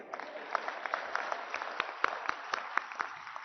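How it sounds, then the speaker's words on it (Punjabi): An audience at a political speech in Punjab claps in soft, fairly distant applause that keeps up steadily with scattered sharper claps. "ਇਸ ਗੱਲ ਲਈ ਤਾਂ ਆਪਦੇ ਆਪ ਲਈ ਤਾੜੀਆਂ ਬਣਦੀਆਂ ਤੁਹਾਡੀਆਂ"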